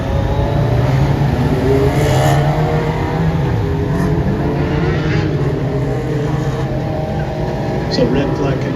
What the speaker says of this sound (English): Cars trying to get themselves started.